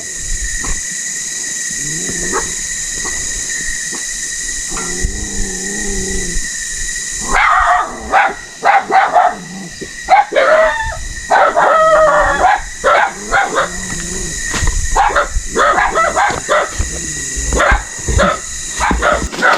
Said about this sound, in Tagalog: aso, may aso.